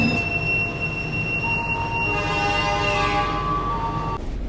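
Extra Gajayana passenger train pulling into Tulungagung station on track 1, with steady loud rumble of wheels on rails and a long high squeal of braking wheels, ending abruptly near the close.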